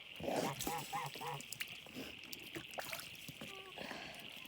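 Geese honk and call in a flock during an evening water shower, with several bursts early on, splashing and water noise over a steady hiss, and faint talk nearby.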